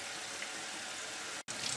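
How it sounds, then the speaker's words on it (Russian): Cold water pouring into a jar of cucumbers being packed for salting, a steady close hissing stream that breaks off for an instant near the end and then resumes. "Опять наливаем водой"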